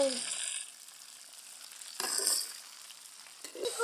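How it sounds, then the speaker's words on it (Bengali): Cauliflower frying in oil in a pan for vegetable khichuri, a close hissing sizzle with short bursts as the pieces are stirred. "এখন ফুলকপি ভাজা হচ্ছে"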